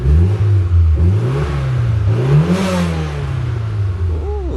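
A Mitsubishi Evo X engine with fresh spark plugs revs up and down repeatedly, rising and falling pitch, loud and close, ending with a brief whine.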